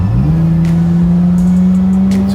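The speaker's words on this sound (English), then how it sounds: "It's revving to the moon" An old classic car engine revs up from idle and holds a loud, steady high-rev drone close by, with only faint background sounds around it.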